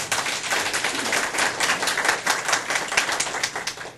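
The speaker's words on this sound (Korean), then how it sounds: "공감이 가시면 박수 한번 쳐주세요" Lecture audience at a business management talk applauding together: dense, even clapping from many hands that holds steady for several seconds with no voices.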